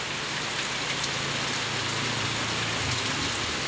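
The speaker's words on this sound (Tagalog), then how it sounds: "Tuloy-tuloy lang ang ulan." Steady rain from a typhoon falls without pause, a dense even hiss of drops on surfaces, close and constant, with no voices.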